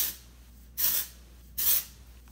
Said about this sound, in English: now I'm just gonna take some, I think it's called Oribe something, dry texturizing spray